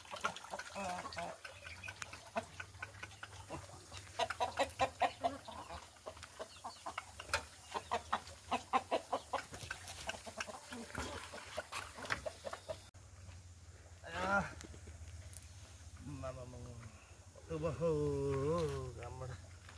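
Village chickens cluck in a rapid, uneven run of short calls at moderate distance, with people talking over and between the clucking.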